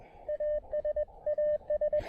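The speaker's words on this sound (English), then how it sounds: "I'm sending out Morse code" Morse code is keyed over an amateur radio during a summit activation on an observation deck at Mount Pisgah, using an improvised wire antenna. A single steady tone beeps in short and long pulses, clear and alone.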